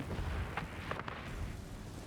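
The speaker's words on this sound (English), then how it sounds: "I have 20mm cannons. They cause a lot of damage." Rapid 20mm aircraft cannon fire in the War of Worldplanes combat game rolls out as a dense, rumbling wash of bursts, somewhat quiet and distant, over steady engine-like noise.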